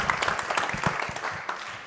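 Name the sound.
audience applause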